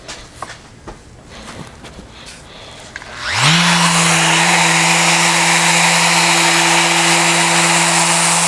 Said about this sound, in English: I'm ready now to flip the slab over and sand the other side